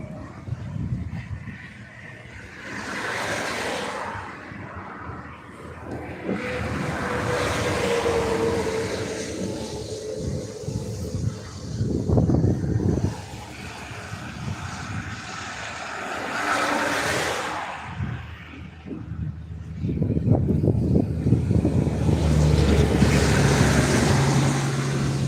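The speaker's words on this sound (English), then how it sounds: "you will hear a lot of traffic because it's a very busy road here" Steady roar of heavy traffic on a busy road near Gaymans Bridge, with louder vehicles swelling past one after another over a continuous background rumble.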